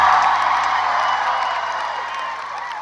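A large concert crowd at a live arena show in Dublin cheers and claps in a dense, sustained roar that gradually fades over a few seconds, with scattered whoops.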